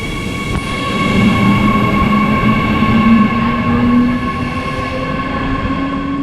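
Berlin airport express train (FEX) ride heard from inside the carriage: a loud, steady rumble of wheels on rails with a rising motor whine, continuous throughout with no talk.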